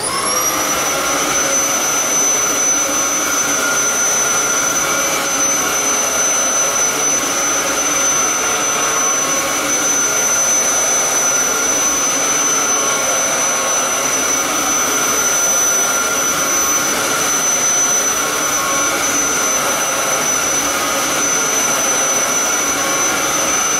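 A Dyson vacuum cleaner fitted with a new HEPA filter running steadily, a loud constant whine and airy roar with a high sustained tone, unbroken throughout with no talking.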